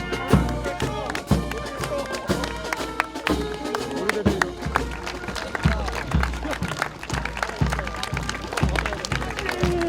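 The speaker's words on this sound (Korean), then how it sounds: "음악이 울려 퍼지고 박수 소리가 이들의 완주를 축하해 줍니다" Applause and cheering greet Special Forces soldiers finishing a demanding night march, mixed with a military band's steady, loud drumbeat and music, with voices throughout.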